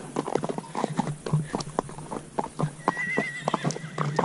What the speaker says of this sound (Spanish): Tenemos ahí arriba caballos que están llamando aquí al compañero.